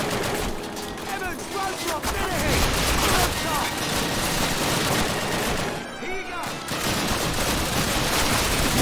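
Sustained gunfire rattles through a Call of Duty battle, dense overlapping rifle and machine-gun shots crackling almost continuously, with a brief lull before the firing resumes, loud and close.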